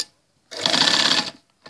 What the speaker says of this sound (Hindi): स्टिचिंग स्टार्ट हो चुकी है